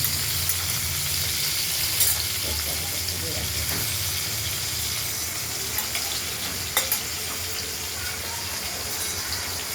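Tomatoes fry in a pan for a spicy katla fish curry with potatoes, giving a steady, close hiss and sizzle of oil with occasional soft stirring clicks.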